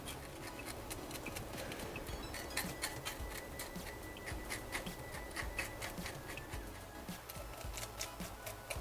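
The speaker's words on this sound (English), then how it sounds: "So you want to scale towards you." Fish scales being scraped off toward the cook for Jamaican escoveitch fish: a quiet, rapid, rhythmic rasping of short strokes repeats steadily throughout, close by, with no talking.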